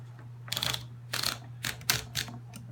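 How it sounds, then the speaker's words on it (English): A 1939 Underwood Noiseless Portable typewriter types in a few short bursts of muffled key strikes, each a brief cluster of thuds with gaps between, close and fairly clear over a low steady hum. "We'll do a little typing and show you all the keys work correctly"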